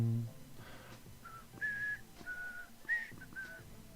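A person whistles a short, faint tune of several separate high notes, rising and falling over a soft low hum.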